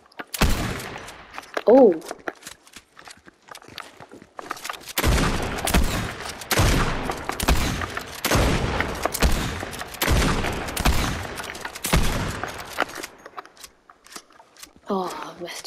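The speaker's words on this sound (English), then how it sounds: "Mammoth pistol." Mammoth pistol firing in Fortnite, loud repeated shots in dense bursts with a brief pause between volleys, and a short exclamation from a player near the start.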